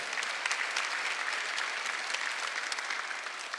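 A church congregation claps together during a Sunday worship service, a dense, steady wash of applause that holds at even loudness throughout with no voices standing out.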